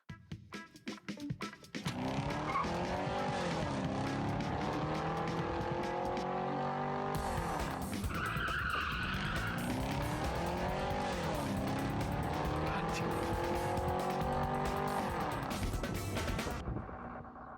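Car speeding and skidding, a loud continuous engine roar with sweeping pitch changes as it accelerates, and high squealing tire tones in the middle, after a few sharp knocks at the start.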